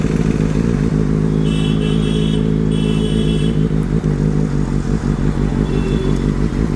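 A Benelli 600i motorcycle engine runs loud and close, a deep, throbbing four-cylinder rumble that swells and settles through several throttle blips, with no talking over it.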